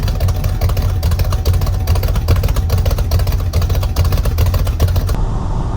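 A 1977 Ford truck engine fitted with a performance cam, idling roughly with a steady loping, uneven pulse, loud and close, before cutting off abruptly near the end.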